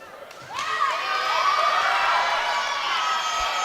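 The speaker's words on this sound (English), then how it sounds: "The crowd is going wild." Spectators at a women's varsity netball match between Salford and Chester burst into loud cheering and high-pitched shouting, which swells after a brief lull and holds as a sustained roar.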